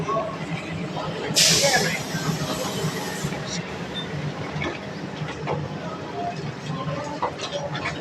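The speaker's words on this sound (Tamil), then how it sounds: "இதுதான் ஸ்கை ட்ரெயின்." Steady rumble of the airport SkyTrain in Jakarta moving toward Terminal 2, with a brief high hiss early on and voices talking over the noise.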